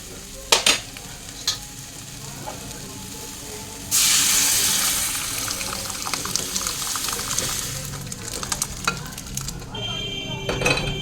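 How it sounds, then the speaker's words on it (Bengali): Dal poured into a hot pan, with a sudden loud sizzle that breaks in around the midpoint and keeps crackling steadily, following a few sharp clinks of utensils and stirring earlier on. "এবার ডালটা এটার মধ্যে ঢেলে দেবো।"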